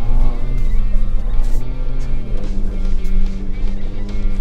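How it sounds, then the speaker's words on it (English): Engine of a 2022 Ford Bronco Raptor in 4 high, revving steadily with wheel spin while climbing a snowy hill, a loud, continuous droning roar that shifts pitch slightly as the tires churn. "it's in 4 high, so we're gonna get a lot of wheel spin"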